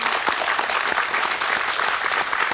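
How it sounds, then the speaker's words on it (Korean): A studio audience claps steadily for a few seconds, a dense, even patter of applause from a seated crowd in a television talk show set. "박수 한번 보내드릴까요?"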